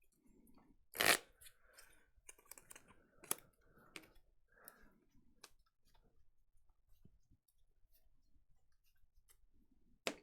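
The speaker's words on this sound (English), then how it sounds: "Let me shuffle that Charmander back into the deck real quick." Pokémon trading cards being shuffled back into a deck, with soft irregular clicks and riffling taps spread over several seconds and one louder burst near the start, close and alone without talk.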